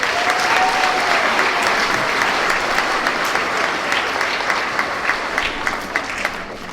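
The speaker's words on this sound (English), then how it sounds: "feel free to applaud for each one as they make their way up the stage here" An audience at a grades 4–6 school awards assembly applauds steadily and loudly the whole time, a dense wash of clapping that fades slightly toward the end, with no voices on top.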